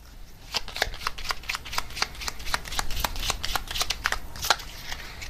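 Oracle cards being shuffled by hand, a close, steady run of crisp riffling flicks and soft card slaps that carries on for several seconds with no talking.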